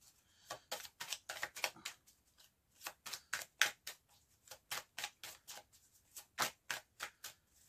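Cards are shuffled and cut for a card reading in a long series of quick, crisp riffling flicks and snaps, close and fairly quiet, with no talking.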